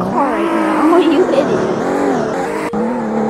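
Car engine revving and shifting pitch while driving in a video game, loud and continuous, with a voice talking over it.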